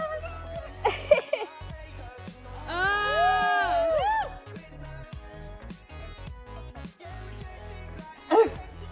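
Dog met on a beach in Wales, whimpering and yipping in a drawn-out, wavering whine that rises and falls, with a few short yelps nearby over outdoor background noise.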